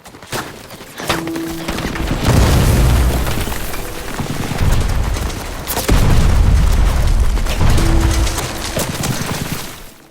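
Heavy blasts and rumbling explosions from an RPG hit in a war film battle in an Afghan valley, two sustained booming surges with debris-like crackle and a sharp impact near the middle, loud and without speech.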